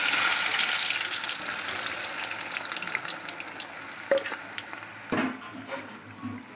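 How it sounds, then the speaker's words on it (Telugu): Onions sizzling in hot oil in a kadai for Andhra-style gongura pachadi, a steady crackling fry that fades slightly, with a few sharp clinks of a spoon stirring near the end. "ఉల్లిగడ్డలు వేసుకున్నాం."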